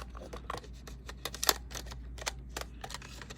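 A camera shutter release is pressed in bulb mode, giving faint, close mechanical clicks and small handling taps scattered over a few seconds against a low steady hum.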